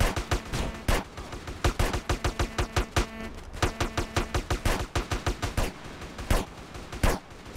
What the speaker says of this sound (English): Shots fired. Shots fired. Paintball, paintball, paintball.